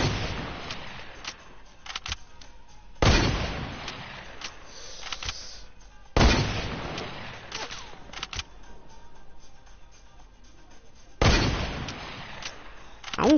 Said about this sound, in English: Let me try a hunting rifle.